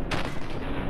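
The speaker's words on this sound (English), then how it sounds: "Are you gonna keep firing, please?" Gunfire in the Fallout 4 game's Survival mode: a short, loud burst of shots, close and dense, filling the brief moment with no talk over it.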